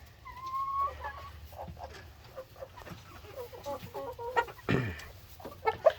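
Chickens cluck close by in a barnyard shared with turkeys, giving soft scattered clucks and one sharper squawk near the end. A low hum sits underneath, and the birds are otherwise fairly quiet.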